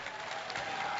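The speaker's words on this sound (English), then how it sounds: "Yes, please keep clapping for them." Crowd applauding at a state fair llama costume competition, a brief steady patter of clapping, moderately distant and soft.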